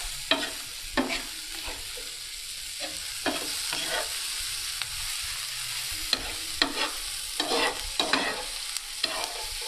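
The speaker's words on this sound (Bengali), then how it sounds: "আপনারা দেখছেন এটা ভাজা হয়ে যাচ্ছে।" Food frying in a pan ahead of potatoes going in, a steady close sizzle broken by regular scraping and stirring strokes of a utensil, with no talk.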